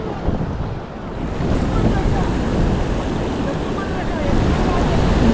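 Sea waves surge onto rocks, rushing and churning loudly under heavy wind buffeting the microphone, a continuous roar of water surging close by on the Konkan coast.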